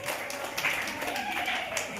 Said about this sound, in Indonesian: tepuk tangan dulu buat kelompok 1